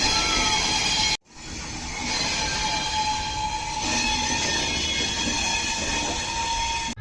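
A passenger train rolls into a station at Jalpaiguri, a loud steady rumble of wheels and carriages with a sustained metallic squeal over the top, briefly cut off and then resuming.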